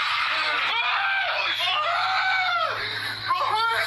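Loud, drawn-out screams with wailing, rising and falling pitch fill a spooky horror stream, broken by short gaps and overlaid with a steady background hum.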